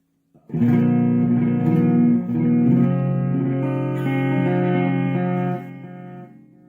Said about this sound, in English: This is delay 1.